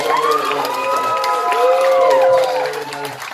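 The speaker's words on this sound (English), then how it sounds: "we're all going to start clapping for Blake Pyatt one more time" A comedy club audience claps and cheers for a comedian at the end of his set, a loud, steady roar of crowd noise with whoops and shouts that swell and then begin to fade.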